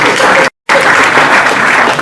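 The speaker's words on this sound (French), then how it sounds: "On va applaudir pour lui." Loud audience applause at a public talk, a dense patter of clapping that cuts out for a split second of dead silence and then resumes just as strongly.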